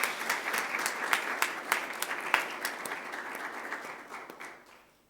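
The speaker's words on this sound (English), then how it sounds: "Round of applause for all our football team," A school sports awards assembly audience gives steady applause for the football team, a dense patter of many hands that slowly fades out at the end.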